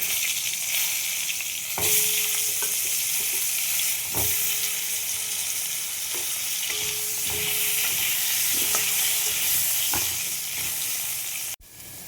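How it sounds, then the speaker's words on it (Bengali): Potatoes fry in hot oil in a pan with a steady, loud, close sizzle, broken by occasional clacks of a utensil stirring. "আর এখন ভেজে নেব ওই তেলের মধ্যে আলু।"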